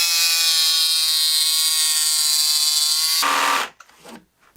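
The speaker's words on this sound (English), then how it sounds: "I'm going to use a jigsaw to cut that out." Loud, steady high-pitched buzz of a jigsaw cutting cedar boards for about three seconds, then cutting out abruptly into a few fading rattles and quiet.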